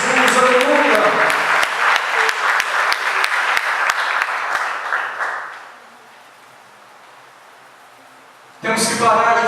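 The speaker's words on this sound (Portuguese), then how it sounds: "Aplauda Jesus Cristo se você o ama" A church congregation claps for several seconds, a dense mix of many hands with some voices, then it fades out before a voice returns briefly.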